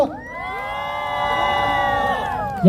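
A crowd at a student rally at Chonnam National University calling for Yoon Suk Yeol's removal cheers and whoops loudly, with raised voices sustained for a few seconds.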